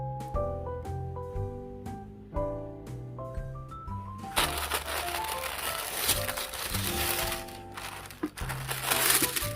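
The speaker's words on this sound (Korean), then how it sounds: "구찌 스카프 언박싱" Crinkly packaging rustles and crackles as a Gucci scarf is unboxed from a green bag. Plucked musical notes play first, then give way to several seconds of close, busy crinkling.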